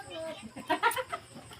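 A chicken clucks nearby in a few quick, throaty notes, fairly faint against a quiet outdoor background.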